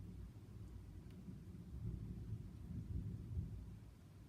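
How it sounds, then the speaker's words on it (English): Distant thunder during a thunderstorm rolls low and steady, a soft continuous rumble that swells slightly in the middle, with no voices. "There has to be thunder after lightning."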